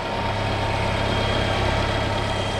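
A 2013-2018 Nissan Altima engine idles close by after an A/C compressor and condenser replacement, a loud, steady low rumble that holds even throughout with no other sounds.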